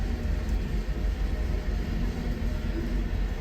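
Southbound coal freight train with Norfolk Southern and Union Pacific locomotives moving on the tracks through a cut, a steady low rumble and rolling noise from wagons, continuous and moderately distant.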